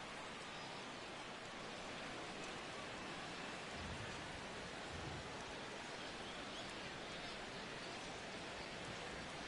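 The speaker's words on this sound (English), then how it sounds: "That rain is really coming down now." Heavy rain pouring steadily in MLB The Show 16, a dense, even hiss filling the whole stretch at a constant level, with no talk.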